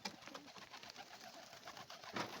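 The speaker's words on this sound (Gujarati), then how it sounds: "આવા કંઈક આપણા કબૂતર છે." Pet pigeons coo softly inside their coop, a low, continuous murmur of calls with a brief, slightly louder burst near the end.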